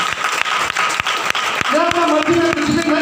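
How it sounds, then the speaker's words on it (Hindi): A church congregation claps steadily throughout a Hindi service while a preacher's voice continues over the applause. "ताली बजा के हालेलुया।"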